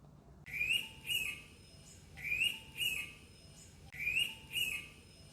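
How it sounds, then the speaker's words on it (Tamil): An Indian pitta gives a repeated two-note call, three clear pairs of sharp whistled notes spaced evenly across a few seconds, fairly close against a quiet background. "அங்கே ஆறு மணிக்குருவியும் இருந்தது சரியாக காலை ஆறு மணிக்கு இந்த குருவி கீ கீ என்று சத்தமிடும்"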